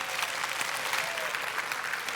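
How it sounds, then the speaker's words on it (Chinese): Audience applause at a motivational business talk in the Philippines: a dense, steady wash of clapping from a crowd that holds at an even level throughout, with no voices standing out. "我们给自己一个掌声。"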